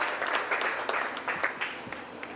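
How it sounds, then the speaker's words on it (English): A small crowd at a polo match claps in scattered, uneven applause that gradually thins out over a couple of seconds. "let's give both teams a round of applause"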